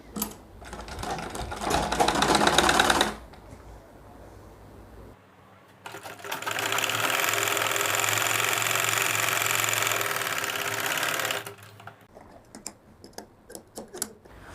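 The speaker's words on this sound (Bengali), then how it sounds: "এবার আমি উপর থেকে সেলাই করছি" An electric sewing machine top-stitches a fatua for elderly men, running in a short burst of a few seconds, then a longer steady whir of about six seconds, separated and followed by quiet handling clicks.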